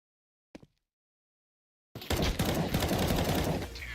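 Gunfire in a competitive shooter video game match: a single short crack, a pause, then a loud sustained burst of rapid automatic fire that runs to the end.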